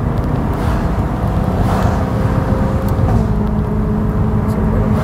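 A BMW M3 E9x with an aftermarket exhaust drones steadily from inside the car while driving at around 2,800 rpm, a continuous loud low engine rumble with no clear downshift blips.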